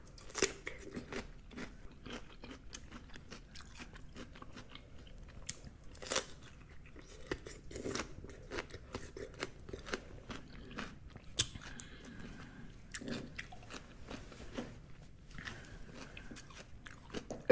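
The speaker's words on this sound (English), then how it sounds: "I got the cucumber on deck." Crisp bites and chewing of fresh cucumber during a mukbang meal, close to the mic, with irregular sharp crunches repeating steadily over a quiet background and no talk.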